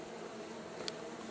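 Russian honey bees buzz in a steady, close, dense drone from a hive, unbroken and heard without any talk.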